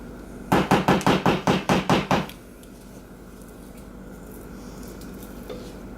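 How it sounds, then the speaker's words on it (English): About ten rapid, evenly spaced scrapes and taps of a rubber spatula pushing banana bread batter into a baking pan, close and fairly loud, then near silence. "you just get yourself a rubber spatula and get it all in there."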